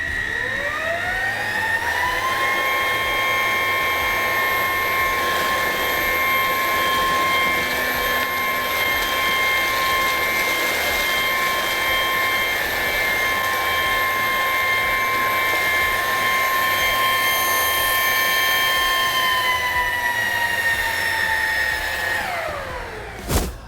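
A cordless stick vacuum with a brushless upgrade and a swapped battery pack runs through tough debris in a loud, steady, high-pitched whine that spools up at the start, holds for about twenty seconds, then winds down, with no talking.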